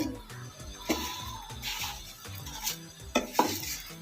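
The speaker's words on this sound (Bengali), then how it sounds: "এবার আমি এটাকে আস্তে আস্তে করে নাড়িয়ে নিচ্ছি চিনিটা গলবে আস্তে আস্তে" Strawberries and sugar are stirred in a pan for jam over a medium flame. A spoon scrapes the pan in a slow, regular rhythm, with soft sizzling and a few sharper clinks.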